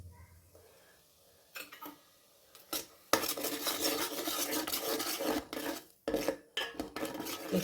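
A spoon scrapes and clatters around a pot of boiling milk with bay leaf for rasmalai, starting with faint occasional knocks before turning into loud, busy stirring with short pauses.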